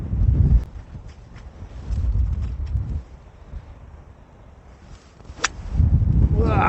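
Strong wind buffets the microphone on a golf course, surging in low gusts and easing off in between, loud and close with no clear voices.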